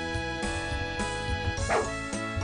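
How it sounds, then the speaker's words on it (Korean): A small dog barks repeatedly in the video game Arcia White Stone 3, short bow-wow yips in quick succession over a steady background music bed, close and clear. "멍멍이는 멍멍하고 짖습니다."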